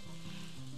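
Steady rain in Harvest Moon A Wonderful Life, a dense, even hiss with a faint low hum beneath, constant and without pauses.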